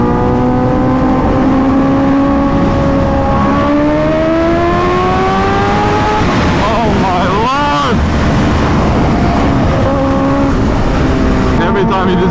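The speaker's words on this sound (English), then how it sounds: "Every time you just decel, just get that blow off noise, man." Kawasaki Ninja H2R motorcycle, 100% stock apart from a Van Diemen exhaust, revving with rising and falling engine pitch and a blow-off whoosh on deceleration, heard close over heavy wind noise.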